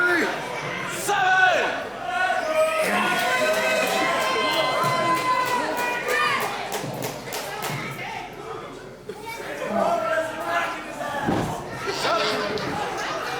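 Wrestling crowd at WrestleARTS Unleashed 12 cheering to rally Brandon Prophet against Hoodfoot; scattered shouts and chatter swell and fade around a ring, with a commentator talking over them and a dull thud near the end.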